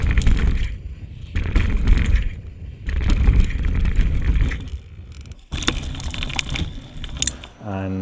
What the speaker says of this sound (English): This time we've added contact microphones to the bikes, and the sound coming from that is definitely interesting.